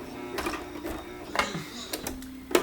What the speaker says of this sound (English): Sometimes that might happen when you're doing zigzag.